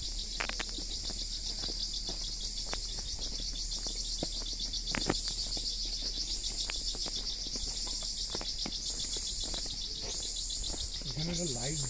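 Insects and birds inside Arwah Cave, Meghalaya: a steady high insect trill runs throughout with scattered bird chirps and faint clicks, fairly quiet and ambient.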